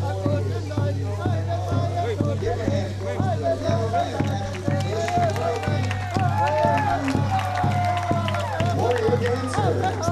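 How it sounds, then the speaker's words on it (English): A crowd along the route of the 56th annual Fort Verde Days parade claps and cheers in a steady rhythmic applause, heard beneath someone talking over a loudspeaker. "They receive a warm welcome and applause for their presentation from this great crowd"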